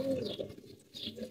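Domestic pigeons in a loft coo in low, soft throaty bursts, close by, with a faint higher chirp mixed in.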